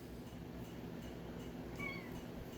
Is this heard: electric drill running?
no